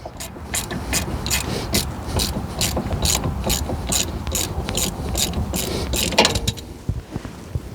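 A ratchet wrench with a 15 mm socket clicks rapidly and evenly while tightening hub bearing bolts on a Ford Ranger, a close run of regular strokes that falters briefly near the end.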